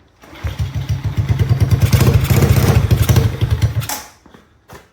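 Tao Tao 125cc motorcycle being kick-started, rapid rhythmic thumping of the engine turning over for several seconds, loud and close, then dying away with a final thud.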